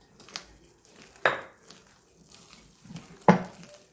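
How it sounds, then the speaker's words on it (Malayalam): Urad dal vada batter being stirred by hand after salt goes in, with soft scraping and a few sharp clinks of a utensil against the bowl at irregular moments, close and fairly quiet. "ഇത് ഞാനിവിടെ നന്നായിട്ട് മിക്സ് ചെയ്തിട്ടുണ്ട്."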